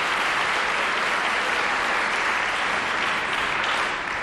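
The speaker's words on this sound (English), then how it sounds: "Applause." Audience applause fills the grand opening ceremony of Louisiana's Old State Capitol in 1994, loud, continuous clapping from a large crowd that holds steady before tapering slightly at the end.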